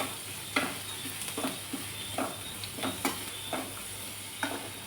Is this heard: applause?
no